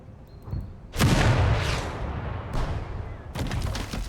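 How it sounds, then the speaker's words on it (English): Artillery fire in the Total Tank Generals video game, heard as heavy booming bursts in three separate salvos with rumbling decays, loud and close. "I use my artillery. And I use my other artillery."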